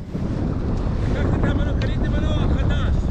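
Boat moving on open sea water on a wintry, cloudy day, with motor-like tonal sweeps rising and shifting over heavy wind buffeting and wave wash, while people talk over it.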